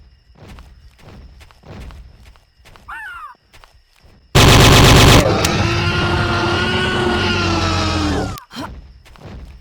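Loud, close M16 rifle fire in the game Trespasser: a dense sustained burst of rapid shots lasting about four seconds, preceded by quieter footsteps and a short squawk, then ending abruptly.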